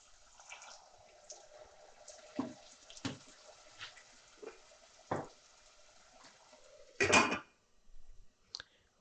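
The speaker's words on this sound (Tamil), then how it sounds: "இப்போ வந்து கொஞ்சம் தண்ணி ஊற்றி மூடி வைக்க போகிறேன்" Water splashes and pours into a pan of vegetables for masala oats in several short bursts, with a longer, louder pour near the end, then a few quiet clinks.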